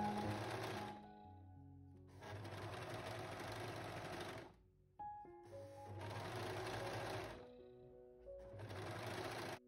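A sewing machine stitches swimsuit top pieces in several loud, steady running bursts separated by short pauses, with a few faint clicks and hums in the gaps.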